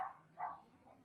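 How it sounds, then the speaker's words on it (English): Cooper, a pet dog, gives two or three soft, muffled barks from another room, faint and short, with quiet background hum. "So you can hear my dog, again."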